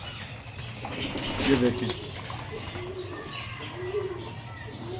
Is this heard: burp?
no